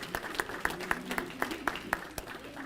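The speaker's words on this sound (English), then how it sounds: "So let's give them a nice round of applause." Audience at the KOBE graduation event clapping for students, sparse and faint, with about ten distinct claps in a loose, slightly irregular rhythm over low room noise.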